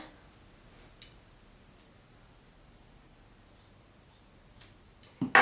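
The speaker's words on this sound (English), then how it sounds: "the next step is going to be to carefully cut off the sleeves" Scissors cut the sleeves off a t-shirt along the serged seam, a few faint, sparse snips and clicks spread over quiet room tone, the last few quicker and louder, with no one speaking.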